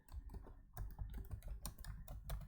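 Fingers type on a computer keyboard in quick, uneven bursts of close key clicks while entering slide text in PowerPoint. No voice is heard.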